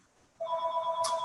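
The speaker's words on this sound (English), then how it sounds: "apologies for that phone ringing, someone will answer it." A telephone rings in the room during a recorded talk on convalescent plasma, a steady electronic tone that starts abruptly and sounds clearly and fairly loud with no talking over it.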